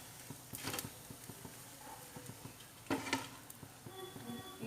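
An aloo dosa frying on a pan, with a soft patter of sizzling and popping crackles in quick irregular bursts, one louder burst partway through, close by with no talk.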